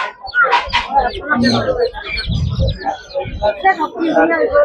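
Busy high-pitched chirping and peeping of many chicks for sale at Broadway pet market in Chennai, mixed with loud nearby talking, continuous and close.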